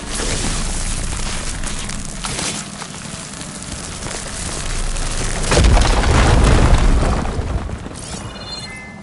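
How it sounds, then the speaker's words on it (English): A firegleam is ignited in Horizon Forbidden West, setting off a loud booming explosion with crashing debris that swells to a deep roar mid-way, then tails off into rumbling and scattered crackles. "Now that I have the igniter, I can get rid of that fire gloom."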